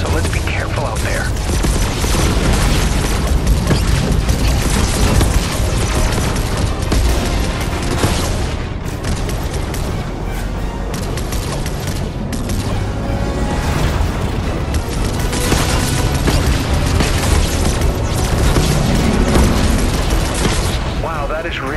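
Bomb explosions during the Fortnite Galactus event game sequence roll on as dense, continuous booming and rumbling, loud and unbroken, with heavy blasts surging in waves.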